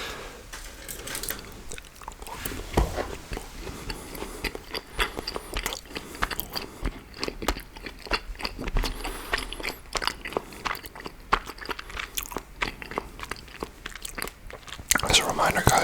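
Chocolate being bitten and chewed close up, with repeated crunchy bites and wet mastication continuing steadily throughout, with a louder burst near the end.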